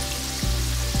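Chicken nuggets fry in a pan over a medium flame as they turn light brown, producing a continuous close sizzle with a couple of faint low clunks.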